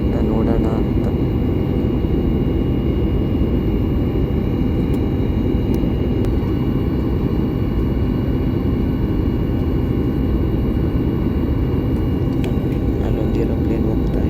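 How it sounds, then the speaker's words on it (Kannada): An airplane passes overhead near an airport, its steady engine roar loud and continuous with no breaks. "ಅಲ್ಲೊಂದು ಏರೋಪ್ಲೇನ್ ಹೋಗ್ತಾ ಇದೆ"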